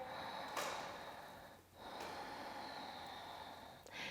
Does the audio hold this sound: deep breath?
yes